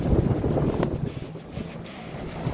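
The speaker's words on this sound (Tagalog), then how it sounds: "Ang lakas ng hangin, no?" Strong wind buffets the microphone in loud, rumbling gusts, with a faint wash like open water beneath it, on the coast at Real, Quezon.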